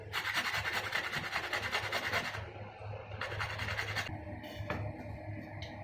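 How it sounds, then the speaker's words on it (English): Garlic and ginger grated by hand on a kitchen grater for bottle gourd soup, a steady rasping scrape that runs continuously, pausing briefly and resuming in short strokes, close and fairly loud. "So we are grating the garlic now. We have to grate the ginger as well."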